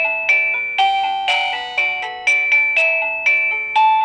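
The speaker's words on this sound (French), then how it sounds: "Une sonnette sans fil. Un carillon." A wireless doorbell chime plays a bright electronic melody of about eight evenly spaced ringing notes, each struck sharply and left to decay, clear and close with no voices.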